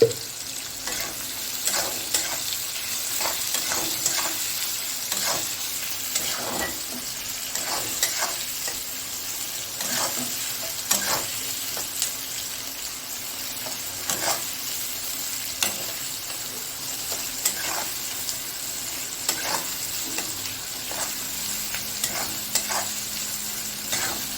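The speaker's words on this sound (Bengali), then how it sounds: "তাড়াতাড়ি পেঁয়াজটা হয়ে যাবে ভাজা ভাজা।" Onions fry in a pan with a soft, continuous sizzle, broken by frequent rhythmic scrapes and taps of a spatula stirring them, fairly quiet and without talk.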